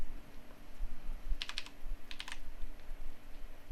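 Keys on a computer keyboard are tapped while an Excel formula is typed, giving two quick bursts of crisp close-up clicks in a quiet room.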